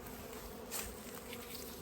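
Honey bees buzz around a hive entrance in a faint, steady, close drone with a brief swell partway through and no voices.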